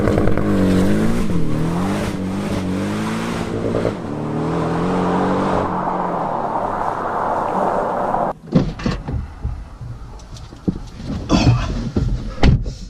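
A four-cylinder Porsche Cayman with sports exhaust revs and drones loudly, rising and falling in pitch, then gives way to choppy bursts of road and exhaust noise.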